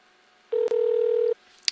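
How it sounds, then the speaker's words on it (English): A single steady telephone dialing tone held for just under a second, cut by a brief click, then a short faint blip near the end, with no talking. "So let me get Susan on the phone."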